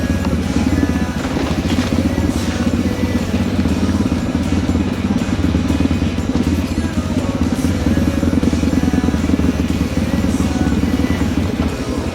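An adventure motorcycle being ridden on a mountain descent, its engine droning loud and steady throughout with a constant rumble and rattling clatter, no voices.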